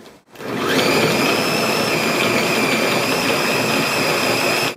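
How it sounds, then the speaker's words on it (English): A blender whirs steadily for several seconds, finely blending chopped apples for country apple fritters. The loud, continuous motor drone starts after a brief click and runs alone with no talking. "And blend them finely."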